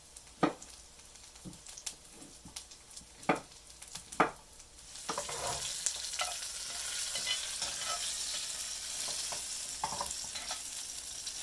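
Pineapple and habanero sauté in a pan for hot sauce, first a few sharp clacks and stirring knocks over a light sizzle, then a fuller, continuous frying hiss with occasional spoon scrapes.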